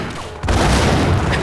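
A grenade blows up on a stairway in the video game Max Payne, a sudden loud blast that opens into a dense, lingering roar of debris.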